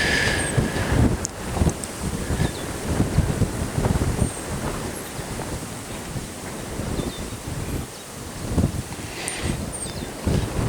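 Wind roars steadily across an open field beneath a tornado-warned storm cell, with gusty low rumbles that may include distant thunder, all continuous with no talking.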